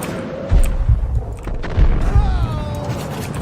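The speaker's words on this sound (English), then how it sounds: "Alright, let's shotgun them." Shotgun blasts aimed at enemies in the Max Payne video game, two or three heavy booming shots about a second apart, loud and close over a busy game soundscape.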